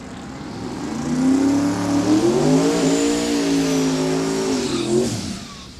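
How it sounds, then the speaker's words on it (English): A 2001 Camaro and a PT Cruiser drag racing down the strip, engines swelling in as they accelerate, a loud rising and falling mid-pitched roar with gear changes, then fading, with no talk. "The PT Cruiser right side, 2001 Camaro over left side."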